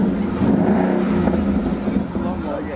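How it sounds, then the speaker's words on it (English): Car engine running and revving after start-up, a loud steady engine drone close by with slight rises in pitch, while people talk over it. "Foot on the brake, start it up. Give it a little rev."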